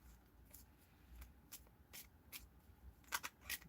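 Soft, quiet riffling and shuffling of tarot cards in short bursts, with a few crisper snaps near the end, in a quiet room.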